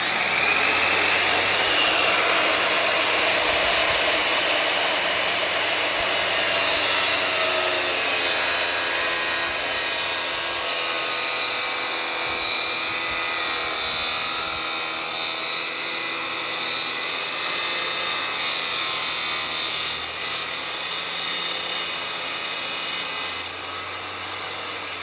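A wet saw slices through marble mosaic tile on a sliding table with backer board support, giving a steady, loud abrasive grinding whine with a watery hiss that runs continuously for the whole cut.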